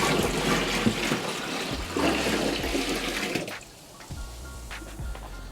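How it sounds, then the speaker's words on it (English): Ice-cold water mixture poured into a turkey brine: a loud, continuous gushing splash lasting a few seconds, then quieter drips and trickles with small knocks of the container. "The mixture is now nicely cooled, so what we're going to do is we're going to pour this in here."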